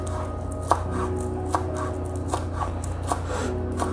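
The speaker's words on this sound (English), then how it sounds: "we're gonna go ahead and cut up some chives to be as a topping." A knife chops through chives on a cutting board, with about six sharp, evenly spaced taps over a steady low kitchen hum, close and clear with no talking.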